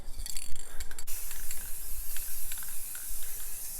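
Aerosol spray can of clear coat hissing in short bursts over spray paint art, with rattling clicks at the start and then a steady close hiss that swells and fades.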